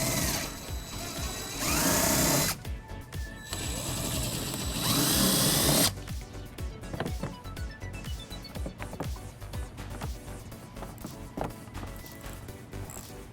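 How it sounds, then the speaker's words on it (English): A ratchet fitted with an 8mm socket removes bolts on a 2013 BMW X5 during a trailer hitch installation. Heavy broadband noise comes first, then rapid, close ratcheting clicks in short runs, with no talk. "we're going to remove using an 8mm socket"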